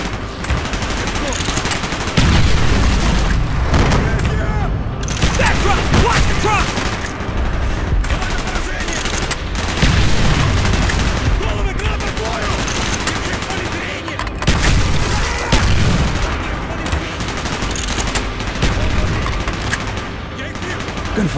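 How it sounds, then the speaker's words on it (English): Call of Duty: Black Ops game combat produces dense, near-constant bursts of gunfire and machine-gun fire with heavy booms of explosions, loud and chaotic throughout, with voices shouting in between. "Gunfire's drawing attention."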